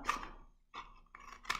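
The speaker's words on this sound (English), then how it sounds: "I'm going to use my scissors and I'm going to cut" Scissors snip into a cardboard toilet paper roll in short close cuts, with quiet gaps between them.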